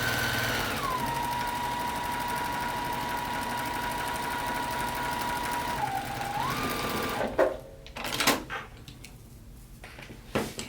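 A JUKI sewing machine stitches curves on a quilted oven mitt, giving a steady, close whirring hum for about seven seconds with a brief pitch dip near the end. The machine then stops, followed by a few soft handling clatters.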